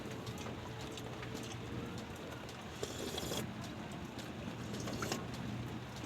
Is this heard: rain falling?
yes